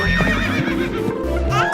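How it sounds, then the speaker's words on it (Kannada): Horse pulling a cart in a cartoon, with loud whinnying neighs over a steady low rumble and faint clip-clop of hooves, close and continuous. "ಚಾವಟಿ ಬೀಸಿದ ತಕ್ಷಣ ಸರ್ರೆಂದೋಡುವ ಕುದುರೆ ಗಾಡಿ."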